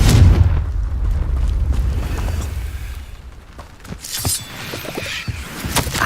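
A Confringo fire spell from the Hogwarts Legacy video game blasts with a heavy low boom at the start, followed by rumbling debris and scattered crackling impacts that fade, then flare again near the end.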